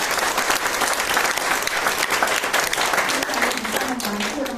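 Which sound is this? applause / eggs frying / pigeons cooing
applause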